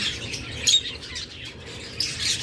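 A pet pair of lovebirds calls with bright, high squawks and chirps, a couple of louder bursts over a soft background, fairly near.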